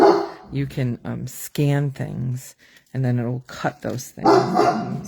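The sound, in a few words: dog barking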